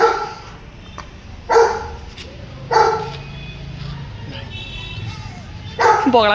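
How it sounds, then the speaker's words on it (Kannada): Several sharp dog barks ring out at intervals, close by, with a whimpering yip at the end over a steady low background hum. "ಇಲ್ಲಿ ನಾಯಿ ಕ್ವಾಟ್ಲೆ ಕೊಡ್ತಾ ಇದ್ದಾನೆ"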